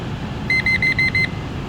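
A carbon monoxide detector alarm sounds a quick run of five shrill, evenly spaced beeps over a steady background hum, loud and close.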